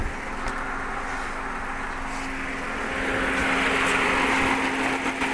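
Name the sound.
air conditioner fan motor running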